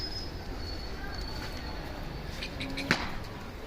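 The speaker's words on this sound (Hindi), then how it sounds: "अब यहाँ पर ये कबूतर जो है अपना उड़ रहे हैं।" Pigeons flutter and land for grain at a pigeon-keeping spot, with soft wingbeats and coos, a sharp flapping burst near the end, and background chatter and rumble throughout.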